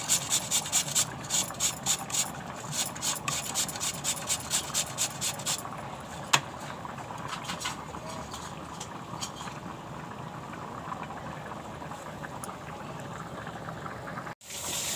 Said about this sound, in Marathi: आता हा मी किसून घेते बारीक किसणीवर